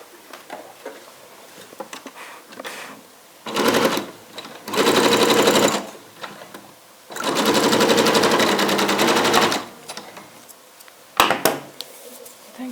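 Sewing machine stitching the lining of a tubeteika cap, loud rapid mechanical rattling bursts of a few seconds each, separated by quieter pauses with handling clicks.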